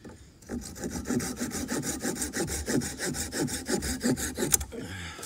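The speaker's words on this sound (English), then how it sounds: "I just need to trim that bottom of that peg off." A handsaw cuts rapid, rhythmic back-and-forth strokes through the bottom of a wooden tent peg while a hot tent frame is set up outdoors, about twenty close, rasping strokes in quick succession with no voices.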